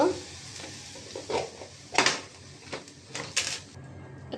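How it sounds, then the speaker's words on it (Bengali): Spices being stir-fried in a home kitchen pan with onions, a little water and ginger paste, heard as intermittent scraping stirs and clinks of a utensil against metal over a low sizzle, close by and without speech. "মশলা কষাবার জন্য"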